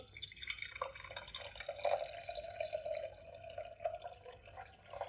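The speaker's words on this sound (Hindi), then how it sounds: "अब अखरोट का पानी है, ये इसके अंदर डाल देंगे" Walnut water is poured into a glass vessel, giving a soft, steady trickle and splash that runs on for several seconds at close range.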